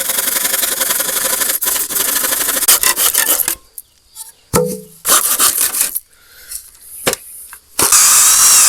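A hand saw cutting wood during a roof renovation, loud rasping strokes that stop and start, with sharp knocks and handling noises in the pauses.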